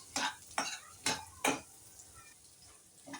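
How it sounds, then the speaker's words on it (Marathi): Paneer and vegetables stir-fried in a pan: four quick, crisp scraping strokes of a spatula come in an even rhythm over a low sizzle, then the frying continues more quietly on its own. "आता आपण पनीरही घालून परतून घेऊया"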